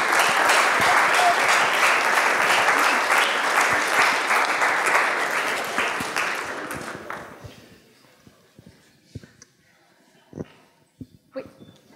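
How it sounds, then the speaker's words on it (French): An audience at a mathematics lecture on superconductivity claps loudly and continuously for about seven seconds. The clapping fades away, leaving a few scattered taps and small room noises. "Donc je pense qu'on peut l'applaudir"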